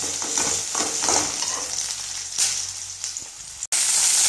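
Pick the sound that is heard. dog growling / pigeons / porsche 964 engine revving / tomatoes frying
tomatoes frying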